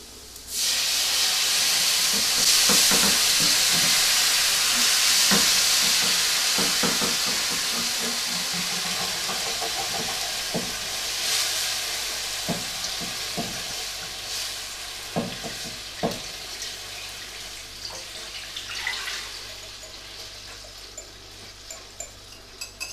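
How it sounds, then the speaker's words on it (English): Steak pie filling is stirred in a hot pan as stock goes into the flour-coated meat, giving a steady loud sizzle and hiss with repeated scraping strokes throughout, easing slightly toward the end. "Stir it around, coat everything with the flour."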